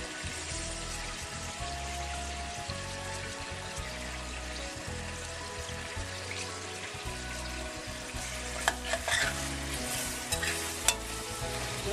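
Fresh tomatoes and onions sizzle steadily in a hot frying pan, a dense continuous crackle with occasional stirring scrapes and a few louder pops near the end, with no voices over it.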